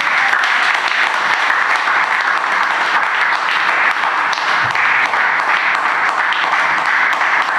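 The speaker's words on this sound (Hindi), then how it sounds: "क्या आप ताली बजा सकते हैं?" A church congregation at a Hindi-language service breaks into loud, sustained applause, dense and even throughout with no break, filling the hall.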